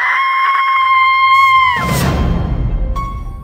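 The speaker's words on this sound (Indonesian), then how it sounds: "sebuah lengkingan, atau tepatnya jeritan seorang perempuan memaksaku untuk terjaga" A woman's shrill scream as a sound effect, one long sustained high cry that holds steady and then breaks off into a burst of noisy rumble, loud and close with no talking.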